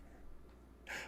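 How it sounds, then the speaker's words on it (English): A single short, deep inhale of breath rushes in after a moment of near silence, close and breathy. "Take a deep breath."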